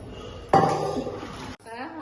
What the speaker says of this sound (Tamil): 10 கிளாஸ் தண்ணி இப்ப ஆட் பண்றோம்.